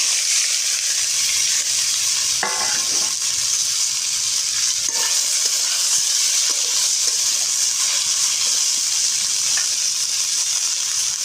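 Chopped vegetables such as bottle gourd, tomato, potato, papaya, carrot, green chili and peas fry in a kadai, producing a loud, even, hissing sizzle throughout with a couple of faint knocks.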